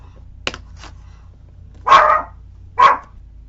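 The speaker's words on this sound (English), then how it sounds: "I had to stop it with Stella barking." A single dog gives a few sharp barks, close and loud: a light yip first, then two strong barks spaced about a second apart, with quiet room background between them.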